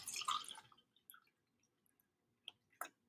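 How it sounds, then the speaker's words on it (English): Water is poured off from a small container in a kangen water demo, a brief splashing gush followed by quiet scattered drips close by. "So let's just pour the water off of this one."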